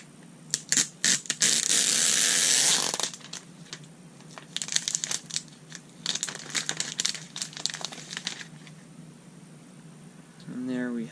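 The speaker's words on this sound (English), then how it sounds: "first we'll go ahead and remove the plastic." Plastic wrap crinkles and tears off a new 6th generation iPad in bursts of crackling, loudest early on, with handling clicks and rustles between.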